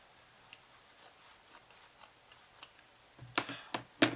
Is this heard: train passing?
no